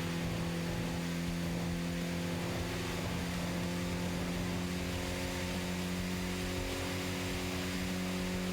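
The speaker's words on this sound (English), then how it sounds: "Sounds a lot louder with the air intake." A car engine in the video game Shutokou Battle, fitted with an air intake, holds a loud steady drone with a harsh, staticky hiss over it and no clear rev swells, running throughout.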